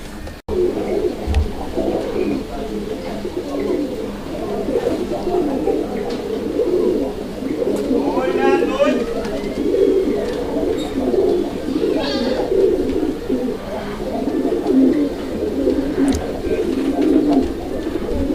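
A pair of pure Indian Bombay pigeons, one white, coos steadily at close range, the low rolling calls repeating throughout with faint background chatter and someone speaking over them.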